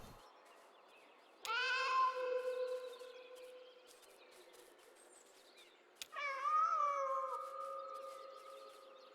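A cat in the video game Kentucky Route Zero gives two loud, drawn-out resonant meows, the second following a few seconds after the first, heard alone over a low ambient backdrop.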